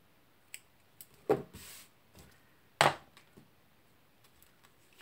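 Small scissors snipping twine for a paper craft tag, a few sharp isolated clicks and two distinct snips, quiet and close with handling noises between.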